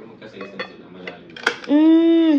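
New pots, pans and lids are handled: several light clanks and clinks of metal cookware, then a sustained ringing tone near the end, with faint talk in the background.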